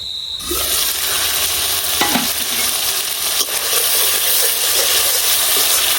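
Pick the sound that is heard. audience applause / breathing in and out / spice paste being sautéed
spice paste being sautéed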